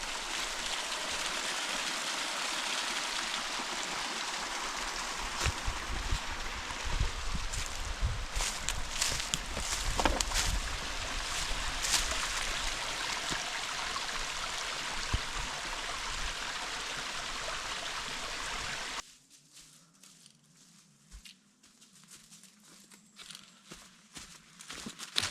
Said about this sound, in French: Regardez ça, la petite chute.